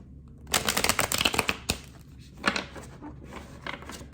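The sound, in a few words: tarot cards being shuffled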